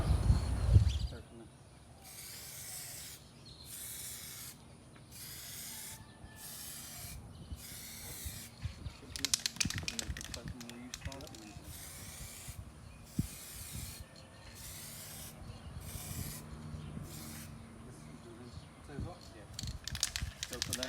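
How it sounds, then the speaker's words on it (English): Raptor liner coating sprayed from a spray gun onto vehicle plastic: repeated bursts of hissing spray, each lasting about a second, separated by short pauses, fairly close and fairly quiet. "we're gonna start spraying the plastic with the Raptor"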